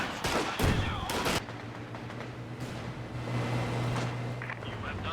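Machine gun fire in a video game battle: a loud, rapid burst of shots opens the scene, then fades into quieter distant gunfire and battle ambience while a commentator talks over it.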